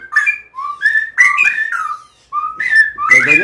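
A wild forest bird sings loudly and close in a sequence of clear whistled phrases broken by short pauses, with sharp rising and falling notes.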